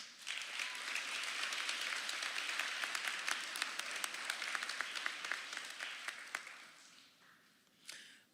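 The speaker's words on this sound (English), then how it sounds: "Give yourselves a hand." A 5th grade elementary school graduating class claps for itself at an evening ceremony, sustained dense applause filling the room for several seconds before tapering off, with a brief burst near the end.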